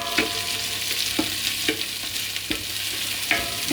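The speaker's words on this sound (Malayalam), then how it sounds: "ഇപ്പോൾ ഉള്ളി ശരിക്കൊന്ന് ചുവന്ന് വരുന്നവരെ നമുക്കൊന്ന് നന്നായിട്ട് ഇളക്കി കൊടുക്കാം." Sliced onions and chicken sizzle in hot oil for Arabic majboos while a spatula stirs and scrapes the pan in a steady rhythm, about twice a second, over a constant close frying hiss.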